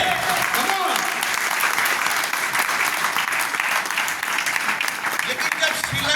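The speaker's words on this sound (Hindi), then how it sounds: "जोरदार ताली होनी चाहिए हमारे इन तमाम श्रीलंका अचीवर्स के लिए।" Audience at a Modicare business meeting in Digha applauding achievers, a dense, sustained burst of clapping from a sizable crowd that fills the room for several seconds with voices faintly beneath.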